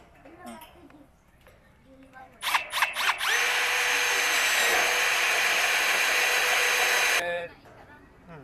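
A power drill drives screws into a flower pot rack: a few short stuttering bursts, then one loud continuous whine lasting several seconds before it cuts off. People talk quietly before and after.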